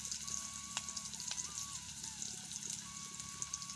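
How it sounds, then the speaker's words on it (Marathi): Garlic and cumin sizzle in hot oil in a village kitchen, a soft, steady crackling fry with faint pops, quiet and close, with no talk. "आता लसूण टाकून घेते हे आता जिरे टाकते"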